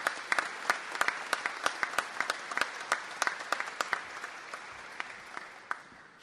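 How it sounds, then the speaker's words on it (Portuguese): Audience applause at a ceremony honouring the president of the Brazilian bar association (OAB), greeting the vice-president of the Federal Council: a steady wash of many hands with sharp individual claps standing out, loud and sustained, gradually thinning toward the end. "Pedir uma salva de palmas ao vice-presidente do Conselho Federal."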